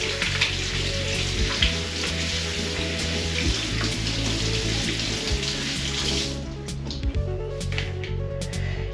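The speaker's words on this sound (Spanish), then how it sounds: "Las ñoras las vamos a sofreír con los ajitos" Dried ñora peppers and garlic frying in olive oil, a steady close sizzle and crackle that runs throughout with a faint hiss, no talking over it.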